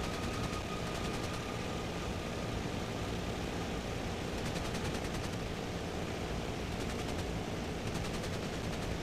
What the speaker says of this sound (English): we're receiving defensive fire